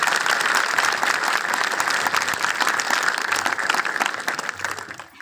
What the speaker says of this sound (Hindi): खुदावंद यीशु मसीह के जलाल के लिए जोरदार तालियां बजाएं।